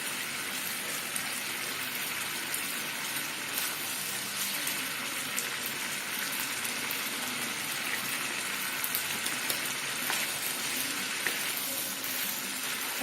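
Soya chilli gravy with spring onion simmers and thickens in a pan, giving a steady, even bubbling hiss that continues without a break.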